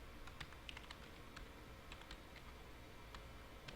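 Rapid typing on a computer keyboard while entering a new search, a quiet irregular patter of key clicks in quick bursts, close and without talk.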